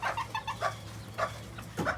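Chickens cluck nearby in a farm coop, a string of short, loud, uneven clucks and squawks in quick bursts.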